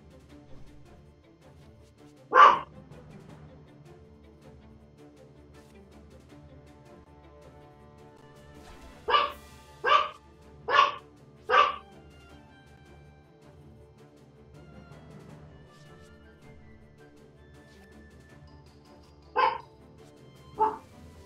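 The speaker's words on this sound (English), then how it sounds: "Apologies if my dog sound gets very loud." A dog barks indoors, one bark first and then a quick run of four, with two more near the end, each loud and close against a quiet background and separated by long gaps.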